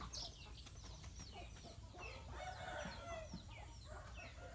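Chickens cluck around a coop on a mixed farm, with overlapping calls and a rooster-like crow against a steady, faint outdoor background.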